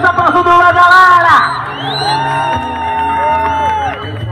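A crowd at a Brazilian motorcycle wheeling stunt championship in Feira de Santana whoops, yells and cheers loudly for a rider, with a sharp burst early on settling into sustained shouting and some tonal, engine-like sweeps.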